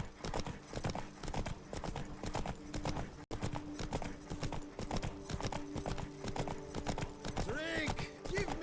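Hooves of Roach, the horse in The Witcher 3's Blood and Wine Toussaint countryside, clop in a brisk, even trot right up close, with someone speaking over them and faint background music.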